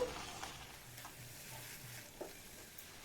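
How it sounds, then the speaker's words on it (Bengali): Fried semolina in ghee is stirred in a pan, giving quiet, close scraping and shuffling strokes over a faint low sizzle, a few sharper scrapes of the spoon against the pan standing out, with no talking. "সুজিটাকে দিয়ে দেব অল্প অল্প দেবো আর এইভাবে কন্টিনিউ নাড়তে থাকবো"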